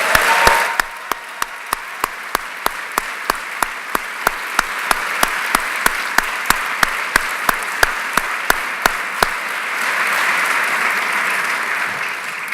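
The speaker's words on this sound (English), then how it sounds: "I want to give him a special round of applause" An audience at a State of the City address applauds a rescuer, with a sharp rhythmic run of regular claps standing out near the front and broad crowd applause swelling around them, then fading.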